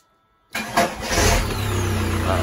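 A car engine, silent at first, cranks briefly and catches, then settles into a loud, steady idle close by.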